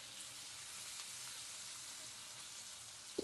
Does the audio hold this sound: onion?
yes